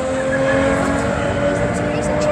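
A Toyota Chaser with a 2.5 litre engine drag races at Elvington airfield, giving a loud, steady engine drone with a voice talking over it throughout.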